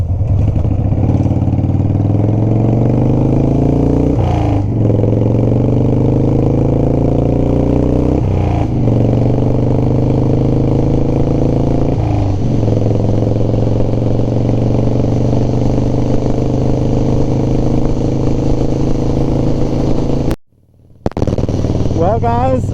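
A Harley FXR motorcycle riding down a road with a loud, steady engine drone that rises through the gears, with pitch climbing in repeated shift cycles, wind rush throughout and a brief dropout near the end.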